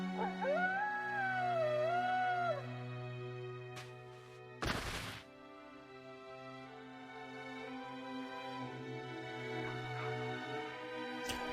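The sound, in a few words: dogs howling in the video game NieR: Replicant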